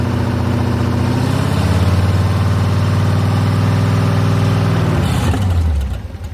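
A ZMZ V8 engine runs steadily and loudly with a 4HP22 automatic transmission engaged in drive, a deep continuous hum that holds for several seconds before the revs drop off sharply near the end.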